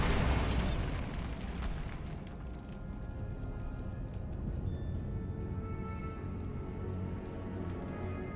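A Bombarda spell explosion in Hogwarts Legacy, a booming blast at a cave that hits loud at once and then decays into a long rumbling roar with crumbling debris.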